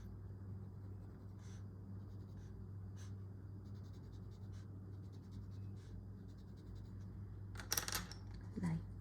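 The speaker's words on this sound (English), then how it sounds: "I'm going to add in the pencil shade" Pencil shading on paper, a soft, faint scratching and rubbing at close range with a few brief louder scrapes near the end, no voices.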